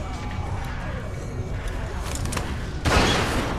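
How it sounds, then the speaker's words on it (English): A loud gunshot blast rings out in The Walking Dead: 400 Days video game, a single broad crack late in the moment, preceded by tense ambient game sound with voices present. "Fire the fucking gun!"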